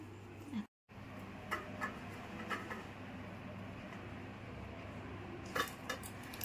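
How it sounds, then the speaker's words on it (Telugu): Sesame chikki mixture is tipped onto a ghee-greased plate, giving a few light metallic scrapes and soft clinks of utensil on plate, close and quiet against a low room hum. "ఇప్పుడు మనం నెయ్యి రాసుకున్న ప్లేట్లోకి వేసేసుకుందాం"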